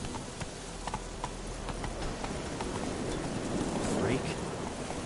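Roach, Geralt's horse in The Witcher 3, clip-clopping on hooves through steady rain, with an even, moderately close hoofbeat rhythm over the hiss of rainfall.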